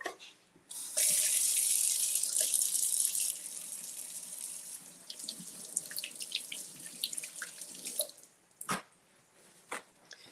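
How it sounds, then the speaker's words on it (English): A cucumber is rinsed under a running kitchen tap: a loud steady rush of water into the sink for several seconds, followed by lighter splashes and drips as the flow is interrupted. "let's rinse the cucumber"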